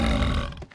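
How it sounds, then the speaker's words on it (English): A single loud, low burp close to the mic, rumbling for most of a second before trailing off, with no talk over it. "No, it's making me burp."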